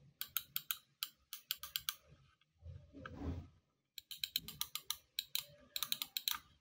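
Rapid, sharp clicks from the buttons of a budget Mikuso computer mouse come in quick bursts, pausing briefly around a short low rumbling noise in the middle before the crisp clicking resumes.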